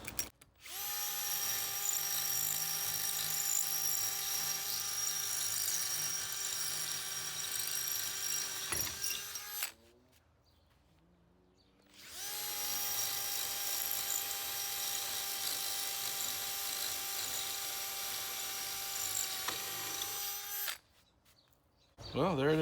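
An old non-brushless cordless drill runs at full speed with a steady high whine, stops briefly, then runs again just as long before cutting off; a voice talks faintly in the background.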